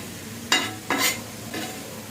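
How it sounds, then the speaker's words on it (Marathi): Vermicelli roasting on a hot griddle, stirred with three distinct scraping strokes over a soft constant sizzle, no talking. "तवा गरम आहे तर म्हटलं शेवया भाजून घ्याव्या"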